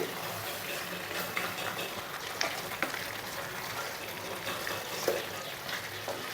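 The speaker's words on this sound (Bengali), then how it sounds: "বাকি দইটা দিয়ে আমরা দু তিন মিনিট কষিয়ে নিচ্ছি" Yogurt masala for chicken rezala being sautéed in a pan, a steady low sizzle and frying hiss with occasional soft stirring scrapes, fairly faint and continuous throughout.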